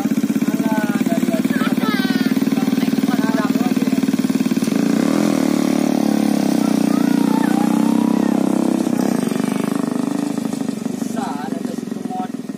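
Motorcycle engine running steadily and fairly loud throughout, its low drone shifting pitch partway through, with people talking over it in Sundanese.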